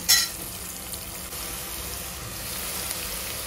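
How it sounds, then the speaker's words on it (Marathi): Tomato puree is sautéed in a pan, giving a steady, moderately loud hiss of sizzling, with a brief splash-like burst at the very start. "टमाट्याची प्युरी केली आहे ती टाकते. छान परतून घ्यायचे."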